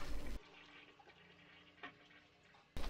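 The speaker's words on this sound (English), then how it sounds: "stops as the paper is flushed down the toilet" A toilet flushes in the bathroom scene of the film Psycho as paper goes down the bowl: a steady, moderately loud rush of water, framed by louder, fuller sound at the start and end.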